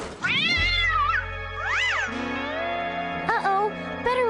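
A cartoon cat meows in a long, wavering, expressive cry, then gives a rising-and-falling yowl and a few shorter meows, loud and close, over a steady low musical drone.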